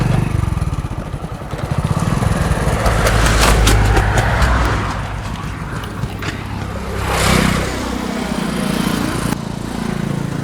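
A motorbike engine runs steadily and close by for the whole stretch, with a low rumbling drone that swells briefly near the end.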